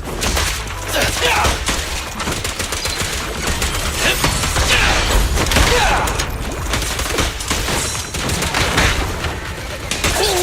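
Dense, continuous gunfire from Zenless Zone Zero, rapid shots rattling almost nonstop at steady loudness over ten seconds, with scattered thuds and booms and voices partly mixed in.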